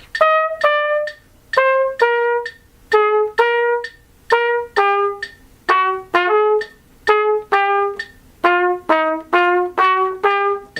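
Short detached cornet notes from a Level 2 solo, played in pairs and small groups with silent gaps between, bright and close, unaccompanied and without speech.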